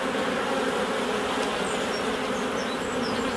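Honey bees buzz steadily inside an open hive, a dense, continuous hum close by with no pauses and no voices.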